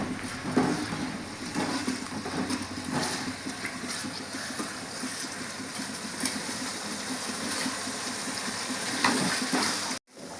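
Ingredients for a boti (goat tripe) curry fry in a pan with a steady broadband sizzle and occasional stirring scrapes, running continuously and close for about ten seconds before a sudden brief drop near the end.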